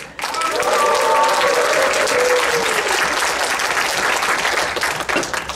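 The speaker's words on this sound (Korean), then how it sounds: "큰 박수와 함께 함성을 쳐주시면 감사하겠습니다" A lecture audience bursts into loud applause and cheering for a Korean comedian's speech, a dense crowd roar that swells at once and holds for several seconds before tapering off.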